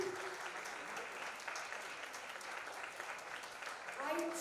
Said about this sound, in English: Can we have a big round of applause for Dr.